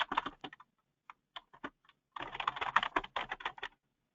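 Keys clattering on a computer keyboard during a nonprofit software webinar: a few scattered taps, a short pause, then a quick, busy run of typing, close and clear with no talk over it.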